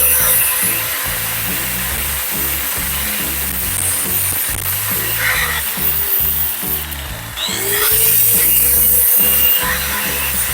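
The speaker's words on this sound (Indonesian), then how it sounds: "biasanya gue akan menggerinda ulang" A grinder works on a cut front shock absorber part from a Vespa scooter, giving a steady, loud, harsh grinding whine that shifts in pitch as the tool presses against the metal, with no speech.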